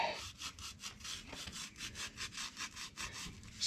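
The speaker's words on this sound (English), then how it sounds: "I'm just going to go along with the Scotch-Brite." A Scotch-Brite pad scuffs a new Can-Am clutch belt in quick, rhythmic back-and-forth rubbing strokes, about a dozen close, fairly quiet abrasive swipes with no talking.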